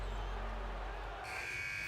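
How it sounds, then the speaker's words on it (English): A final buzzer sounds at a Garden State IAA high school basketball game, a steady electronic tone that starts midway and holds to the end over the constant broadband roar of the gym crowd. "And that's the final buzzer."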